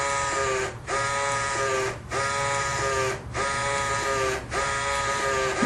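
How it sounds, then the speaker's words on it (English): A portable NIR octane/cetane analyzer's built-in printer printing a ticket: a steady whirring buzz broken by brief regular pauses roughly every second, close and alone. "the printer comes up, and it's printing up a ticket"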